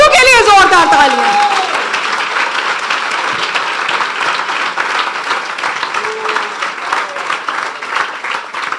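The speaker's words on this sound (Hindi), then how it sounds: "यीशु के लिए जोरदार तालियां।" A church congregation at a Palm Sunday sermon breaks into loud, sustained applause, steady dense clapping filling the room right after a voice finishes speaking.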